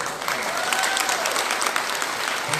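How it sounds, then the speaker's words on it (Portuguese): Audience applause at a 2019 community friendship festival during an award presentation: a continuous, fairly full wash of clapping from a gathered crowd that holds steady for a few seconds. "recebemos os nossos aplausos."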